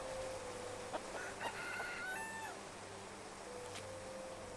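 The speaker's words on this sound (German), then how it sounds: "Ich würde die Henne gerne einfangen." A hen clucks in the video game Clanfolk, giving a few short, faint calls around the middle against a steady hum of background game ambience.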